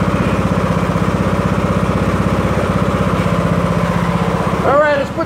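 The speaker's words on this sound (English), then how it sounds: "Now we got the tractor mower hooked up to our fancy frame like that there." A tractor mower engine hooked to a homemade drywall lifting frame runs steadily nearby with a loud, pulsing idle throughout, then briefly revs and shifts near the end while someone speaks.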